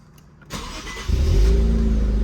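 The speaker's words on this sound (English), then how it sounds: "To make sure that it's gonna work, is I would say turn on the car" An Infiniti Q50 starts up close by: a quick starter whir followed by the engine catching into a loud, low idle rumble.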